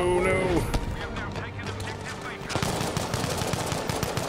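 Rapid automatic gunfire in the video game Battlefield 5, dense bursts of shots that start sparse and turn into a sustained, loud rattle of fire in the last half, with someone talking over the gunfire.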